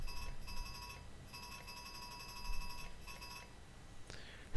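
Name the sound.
train fire alarm ringing in a train simulator video game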